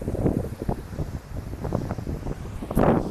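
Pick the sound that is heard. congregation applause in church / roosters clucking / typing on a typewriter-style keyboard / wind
wind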